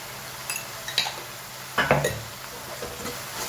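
A spoon clinks and scrapes in a pot as spices are stirred into chole gravy, a few scattered metallic taps and one louder scraping stir, close by with no talk.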